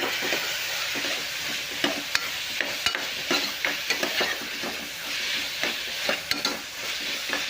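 Spiced goat head curry being stirred and fried in a pan, with a steady sizzle under repeated scraping strokes of the spoon at an irregular rhythm, close and fairly loud, and no talking.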